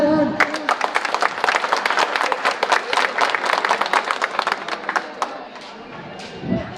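An audience at a pigeon race club prize-giving claps together in a lively burst lasting several seconds, then fades out, with a voice briefly audible at the close.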